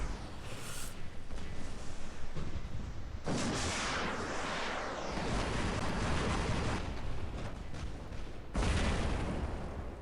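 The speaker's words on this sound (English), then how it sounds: "That is a lot of heavy artillery on that side." Heavy artillery fire in the robot battle game War Robots, dense continuous booming and rumbling blasts that surge in heavy bursts, loud and broadband, with no speech.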